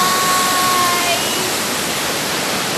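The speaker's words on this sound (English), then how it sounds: "Dito waterfall!" Nalus Falls in Kiamba, Sarangani pours with a loud, steady, broadband roar of falling water, continuous and close, with a faint voice briefly heard over it.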